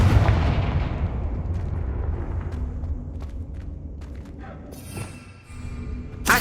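A Confringo fire blast spell in Hogwarts Legacy goes off as a heavy, rumbling boom that slowly fades, with a few sharp crackles and a second burst near the end.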